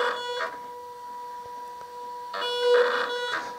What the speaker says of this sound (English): the printer will feed a few labels to calibrate and begin the self-test process